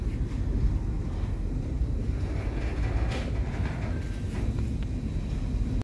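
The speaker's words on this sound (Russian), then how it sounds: "Сейчас к ней подъедет полный поезд" A full train pulls in at Carmel Center, the lowest station of an Israeli underground railway. A continuous, loud low rumble runs throughout, with faint rattling and squeals over the top and no talk.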